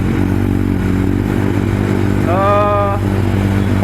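Kawasaki motorcycle idling on its stock exhaust during a cold start, a steady close low rumble throughout with a brief rising tone in the middle, while someone talks over it.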